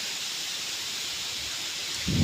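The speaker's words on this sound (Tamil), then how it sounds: "சரியான காற்று" Strong wind sweeping through a banana plantation, a steady broadband hiss of rustling leaves throughout, swelling into a louder, closer gust at the very end.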